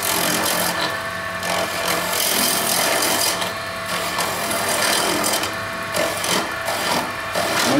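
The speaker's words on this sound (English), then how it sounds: "we're going to raise the chisel until it just starts to cut" A chisel cutting a spinning wooden inlay blank on a lathe, producing a loud, continuous rasping scrape over a steady motor whir, with rhythmic swells as the tool bites.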